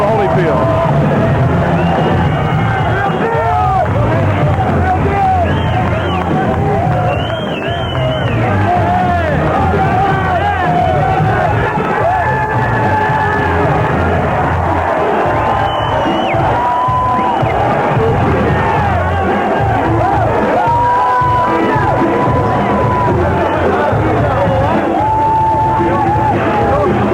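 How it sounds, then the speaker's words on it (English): A packed 1989 boxing arena crowd roars and cheers as Evander Holyfield enters for his fight with Adilson Rodriguez, a loud sustained din of yells and whoops with a commentator talking over it. "Deafening reaction as Evander Holyfield made his way."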